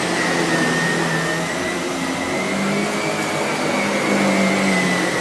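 A SEBO E3 Premium barrel vacuum cleaner drones steadily as it cleans carpet under a coffee table and along skirting boards, a loud close whine holding constant pitch with no speech.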